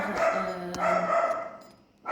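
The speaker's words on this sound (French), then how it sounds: "Excusez-moi pour les chiens." Dogs bark a few times in a home kitchen while a lemon meringue tart is being made. The barks are brief, fairly close and separated by pauses.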